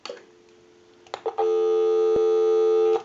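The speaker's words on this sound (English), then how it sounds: "we'll go ahead and give you some dial tone" After a few clicks, a steady dial tone from a Western Electric wood wall telephone hums loudly and continuously, then cuts off.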